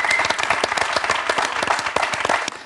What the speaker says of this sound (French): Ça s'applaudit parce que quand même, là, c'était fort.